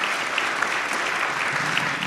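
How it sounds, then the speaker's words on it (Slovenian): Steady applause from a seated audience at a Slovenian Armed Forces awards ceremony, dense continuous clapping that holds at an even level for a couple of seconds with no voices over it. "Mislim, da si zasluži en aplavz."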